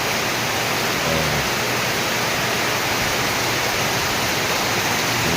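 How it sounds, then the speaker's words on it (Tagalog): Steady, dense hiss of heavy rainfall with wind and a constant roaring wash, loud and close, with no voices. "Sounds ko ng ulan mga kaibigan."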